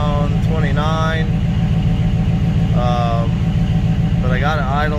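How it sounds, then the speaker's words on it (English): A Chevrolet S10 fitted with a Holley EFI Sniper idles with a steady low rumble throughout. Someone talks over it in short bursts. "I think I got it idling right."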